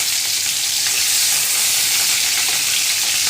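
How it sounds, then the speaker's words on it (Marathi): Chopped fenugreek leaves and green garlic fry in hot oil in a kadai, giving a loud, steady sizzle with bright crackling hiss that holds without pause and no voices. "आपले कढईमधले तेल छान तापलेले आहे। यामध्ये आपण चिरलेली मेथी आणि हिरवा जो लसण आहे तो आपल्याला यात घालायचा आहे।"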